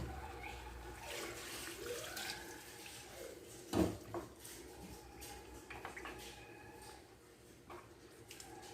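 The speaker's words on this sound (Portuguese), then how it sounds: "Vou colocar aqui a água." Water being poured into a cooking pot while preparing fish for lunch in a home kitchen, a steady close splashing pour with clinks and kitchen handling sounds around it.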